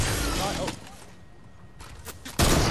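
Gunfire in the Fortnite video game: a dense burst of shots at the start, a quieter gap, then more sharp shots and a loud blast at the end, with players' voices mixed in.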